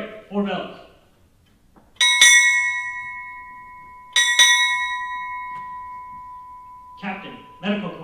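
A ship's bell at a naval change of command ceremony, struck four times in two close pairs of bright ringing strikes that hang and fade, with a voice announcing before and after.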